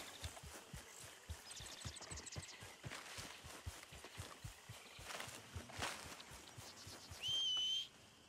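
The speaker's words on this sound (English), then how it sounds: "I whistle for my horse and I gotta go to her." A short, bright whistle for a horse comes near the end, over steady rhythmic hoof-like footsteps and soft game ambience in Red Dead Redemption 2.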